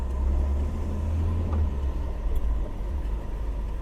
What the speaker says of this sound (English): Second gear, and again we're backfiring.